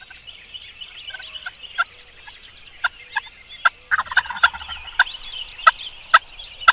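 Wild turkeys gobble in a field: several sharp, rattling gobbles burst out one after another over a quiet outdoor background, fairly near and growing more frequent toward the end.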